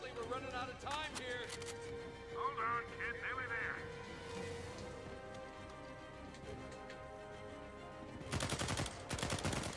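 Bursts of gunfire erupt in the video game Uncharted 4: A Thief's End, with scattered shots and voices early on before a loud, rapid volley of shots near the end.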